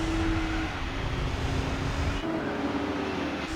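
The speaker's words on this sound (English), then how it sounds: "Here, this sounds like a V8." Steady V8 car engine drone in the racing game Gran Turismo 4, a constant mid-level hum that holds one pitch before briefly dropping and settling again, heard alone without talk.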